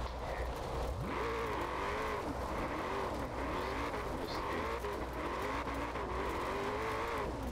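An all-wheel-drive V8 car in the Forza Horizon 4 racing game, its engine revving and rising in pitch through repeated gear changes, steady and close with a faint tire squeal.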